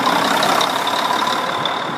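A Mack truck engine, just brought to life with an air starter, runs steadily at a fast idle, a loud continuous mechanical drone with a sustained whine layered on top.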